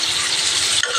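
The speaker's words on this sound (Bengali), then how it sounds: "এটাও কালো জিরে ফোড়ন দিয়েছি।" Nigella seeds sizzle loudly in hilsa fish oil as a tempering, a dense close-up crackle that stays constant with a brief stir near the end. No talking.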